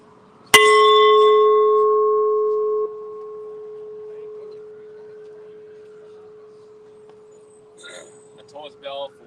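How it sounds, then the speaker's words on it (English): A single tolling bell struck at an anti-death-penalty rally, one loud clear strike that rings on and fades slowly over several seconds, with faint crowd noise near the end. "A toller's bell for Ivan Cantu, who was wrongfully executed in the end of February this year."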